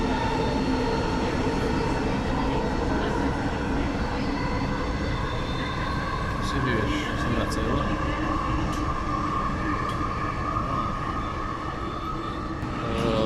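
A metro subway train on the way to Paris rumbles continuously with a loud, dense roar and steady tonal hum throughout, while people talk faintly over the ride noise.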